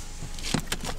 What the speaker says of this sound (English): Power windows.